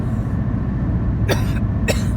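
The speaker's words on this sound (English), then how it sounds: "This cough is not going" Two short, harsh coughs about half a second apart, close by, over a steady low engine rumble.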